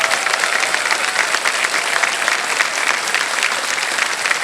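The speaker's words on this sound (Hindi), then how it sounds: "जल्दी से तालियां बज जाए इनके लिए।" Loud, continuous studio audience applause for a winning contestant on a TV quiz show, a thick, even clapping that fills the whole stretch without letting up.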